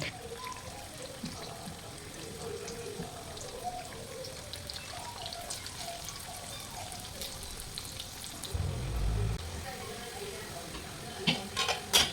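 Food frying in oil over a high flame in a home kitchen makes a steady, low sizzle with voices faintly beneath it, and a brief louder clatter breaks in near the end.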